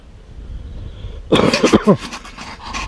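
A gun dog panting hard after retrieving a shot pigeon during spring pigeon control on a pea field, a close burst of rapid breathy huffs over quiet outdoor background.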